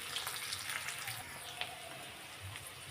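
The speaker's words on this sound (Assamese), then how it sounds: "পিঁয়াজখিনি ভাজি আছোঁ" Onions frying in a pan, a faint continuous sizzle with soft crackles and pops throughout.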